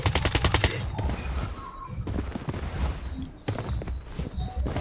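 Gunfire in the shooter game Blood Strike: rapid automatic bursts open the clip, then scattered shots and game effects continue at a steady, fairly loud level.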